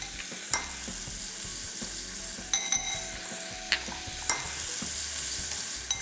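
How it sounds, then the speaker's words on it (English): Onions with ginger and garlic sauté in a hot pan for a Goan fish curry, giving a steady close sizzle with intermittent scrapes and light taps of the stirring spoon, and no talk. "we are sauteing the onions"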